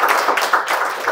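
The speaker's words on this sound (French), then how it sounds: "je voudrais que vous applaudissiez bien fort Alan pour la louange que vous avez menée" An audience claps at a conference session, a dense, continuous patter of applause, loud and close, lasting just over a second.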